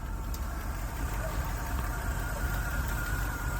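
A squarebody pickup truck with Vortec heads idles steadily, its exhaust giving a low, even rumble with a faint rattle from loose muffler baffles, heard close and continuous.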